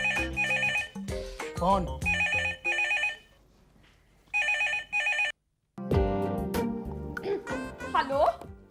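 A telephone rings loudly in repeated electronic bursts with short pauses between them, then stops as voices speak over background sound.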